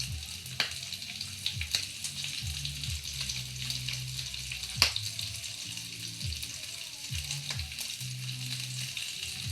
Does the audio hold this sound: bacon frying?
yes